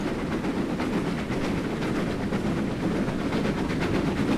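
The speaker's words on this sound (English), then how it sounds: "Oh, there's a train coming." A passing train in the Train Simulator 2016 game, on the Riviera Line near Exeter St Thomas, heard from a Castle Class steam locomotive cab: a steady, loud rolling rumble with rhythmic wheel clatter on the rails, continuous throughout.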